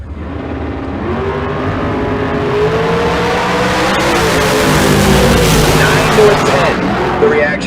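Drag race engines roar at a dragway, including a 1970-bodied Camaro in the right lane, a loud sustained droning rev with rising pitch, heard under an announcer's voice.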